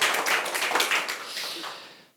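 An audience claps together at the opening of a book concert talk show on social enterprise, a dense wash of applause that gradually fades out to silence.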